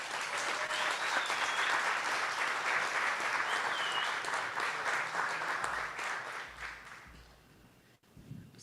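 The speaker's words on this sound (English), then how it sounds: "I would like everyone to give a big round of applause to Candace Syllaboy" A crowd at a Treaty Day celebration applauds Candace Syllaboy with dense, sustained clapping that fills the space before fading out near the end.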